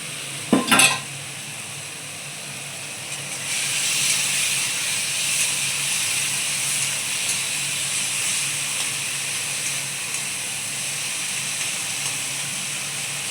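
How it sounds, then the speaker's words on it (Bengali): Taro flowers fry in a pan, first with a brief sharp clatter of stirring, then a loud, steady hissing sizzle that swells and holds for the rest, close up with no voices. "এই যেমন প্রচুর ফুল ভাজা হয়ে গেছে, এবার আমি নামিয়ে নেবো"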